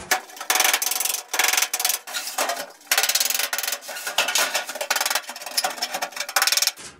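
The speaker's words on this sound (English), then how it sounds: "Hold it right up underneath there and set them rivets." Aluminum rivets being set on a return air cabinet, a rapid series of loud ratcheting, rasping bursts from the riveting tool with short gaps between each set rivet.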